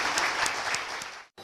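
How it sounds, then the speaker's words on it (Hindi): An audience at a business seminar in Chhattisgarh applauding to welcome a speaker, dense steady clapping from a crowd that fades and cuts off abruptly near the end. "जोरदार तालियों से स्वागत कीजिए।"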